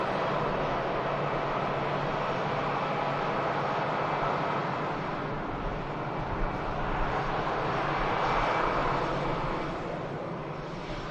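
A Singapore Airlines Airbus A350 takes off at Manchester Airport, a distant, moderate jet rumble that swells slightly partway through and then eases, with no talking.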